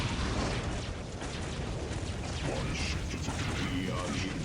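Weapons fire in a Dawn of War Ultimate Apocalypse battle forms a thick, unbroken roar of bursts and booms, loud and constant, with a voice faintly talking underneath.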